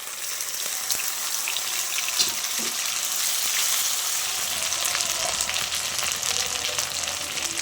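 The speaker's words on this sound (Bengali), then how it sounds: "একটু ভালো করে ভেজে নেব আলুটা ভাজা হয়ে গেছে এখন মশলা দিয়ে দেবো" Potato pieces fry in hot oil with a steady, close sizzle, broken by occasional clinks and stirring noises while spices are added. No one speaks.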